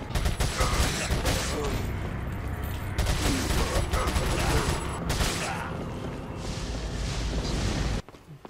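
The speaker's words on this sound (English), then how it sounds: "Where the fuck are they shooting from?" Heavy gunfire in Resident Evil 4 crackles in dense, loud bursts with mechanical clatter, pausing briefly before resuming and cutting off abruptly near the end.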